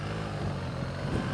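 A BMW 1300 GS Adventure motorcycle engine hums with a steady, tonal whine during a ride, sustained and moderately loud through a short stretch.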